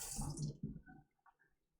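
Water splashes and runs briefly over screen-printed hand towels being rinsed at a sink, a short close burst that fades into a few faint drips.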